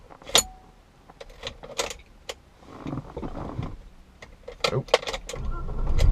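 A lowered, otherwise stock 1987 BMW 325is E30 on aftermarket wheels: sharp clicks and rattles, then the engine catches around the middle and settles into a rough, rising idle close by, with one short exclamation.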